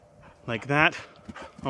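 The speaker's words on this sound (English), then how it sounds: "That's my dog." A pet dog gives a short whimpering yip, a few rising bursts at close range, mixed with a voice speaking indoors.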